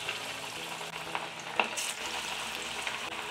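Leftover rice pakodas frying in hot white oil in an iron wok, giving a steady, fairly faint sizzle throughout with a few small pops and crackles as pieces are dropped in.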